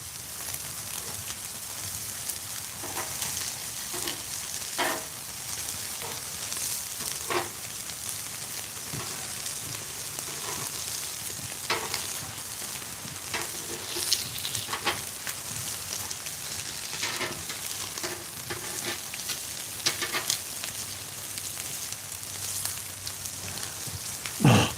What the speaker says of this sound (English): maybe you should tell your dad to start cooking on the Blackstone some more, maybe. That's what it sounds like.